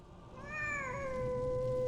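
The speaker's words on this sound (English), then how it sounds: "Cat sounds happy." A cat meows in the video game Neverwinter, a single drawn-out, rising-then-falling call with a bright tonal quality, close and clear over a low ambient game background.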